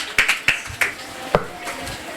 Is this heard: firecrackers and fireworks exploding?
no